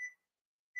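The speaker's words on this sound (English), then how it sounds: "All right, let's turn that timer off." Kitchen timer beeping in two short, thin electronic bursts separated by a brief silence, faint and alone.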